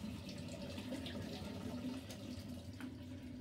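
A laboratory eyewash station runs with a steady, continuous stream of water, a fairly quiet, even flow with no speech.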